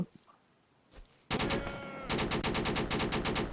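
Rapid automatic gunfire laying down covering fire in the World War II shooter Easy Red II, loud sustained bursts in fast rhythm after a brief quiet lead-in, close and alone.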